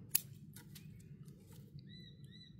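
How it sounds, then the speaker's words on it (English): Shears cut back a shoot on a bottlebrush bonsai, one sharp crisp snip up close followed by fainter small clicks and rustles over a quiet low background hum, with birds chirping faintly. "cut the growing tip off this one."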